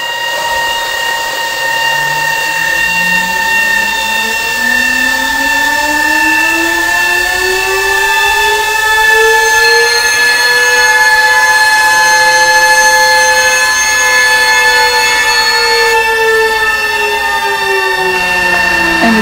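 Two sirens made in Yugoslavia, driven by a vacuum pump in a feedback loop, give off steady loud tones whose pitches slowly glide and bend against each other, with a sustained rising-and-falling wail over a constant drone and no talking.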